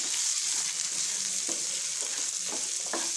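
Potatoes and peas fry in a pan with ground dry masala of red chilli, coriander seed and fenugreek, giving a steady, close hiss with a few soft scraping stirs near the end.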